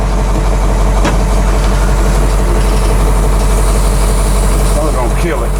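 A GMC 6000 truck idles loud and close after sitting for years, a heavy, steady low rumble with a faint voice in the background.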